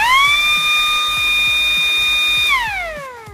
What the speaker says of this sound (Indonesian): motor sirine akan berbunyi apabila dia kehilangan salah satu pasanya, 2 pasa atau 3 pasa.